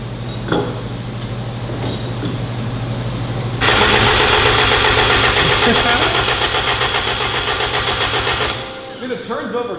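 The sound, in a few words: 1000 hp Honda car engine starting for the first time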